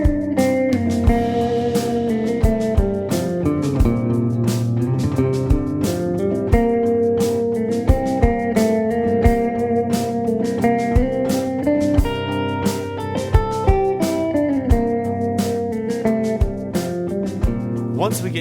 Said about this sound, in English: Hitting the flat 7 on each downbeat sounds like this.